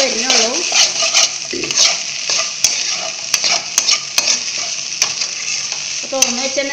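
Okra pieces fry in a pan on a medium-low flame while being stirred, a steady bright sizzle broken by scraping strokes and occasional clinks of the utensil against the pan.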